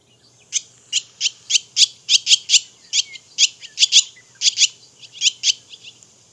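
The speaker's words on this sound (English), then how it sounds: "Barn swallow sounds have been described as a warbling twitter." A barn swallow sings a quick series of bright, twittering chirps, about a dozen repeated notes in an even rhythm, clear and close against a quiet background.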